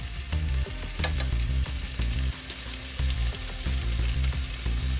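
Meatballs browning in hot oil in a pan for meatball stroganoff, a continuous sizzle overlaid with rhythmic low thumps and knocks from turning them, with no talking.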